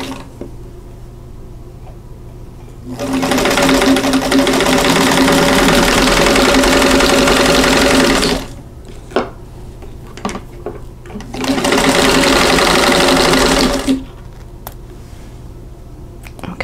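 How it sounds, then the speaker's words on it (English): A sewing machine stitches a quilt block in two steady runs of about five and three seconds, a close, even mechanical whir, with small handling clicks in the pause between. "So go ahead and sew this."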